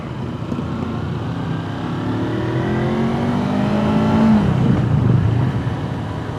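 A Kawasaki Versys 250 motorcycle engine revs while riding, its drone climbing steadily in pitch through the gears with wind noise around it, loud and continuous.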